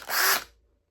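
An electric drill bores a 3.5 guide hole in one short burst, a bright whirring buzz that lasts under half a second before cutting off into near silence.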